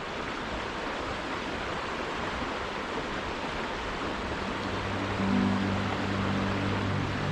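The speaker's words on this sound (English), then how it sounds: "Let that river carry those thoughts away." A river rushes steadily, a loud, continuous broadband wash of flowing water with no pauses, and a low, faint hum joins in for the last couple of seconds.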